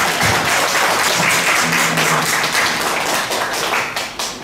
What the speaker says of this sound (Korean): 감사의 박수를